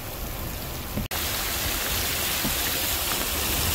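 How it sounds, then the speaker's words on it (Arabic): Heavy rain pours down over the city of Jizan in a dense, unbroken roar that fills the air. A brief dropout interrupts it just after the first second, and no one speaks. "والله الأمطار مو بسيطة، أمطار جدا غزيرة."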